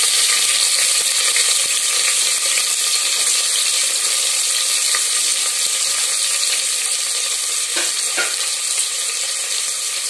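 Chopped onions hiss and crackle in hot oil with a few fennel seeds, a steady dense sizzle from close by with brief scraping stir clicks near the end, and no talk.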